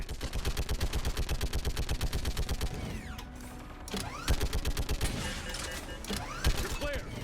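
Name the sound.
shuttle turret firing in video game Mass Effect 3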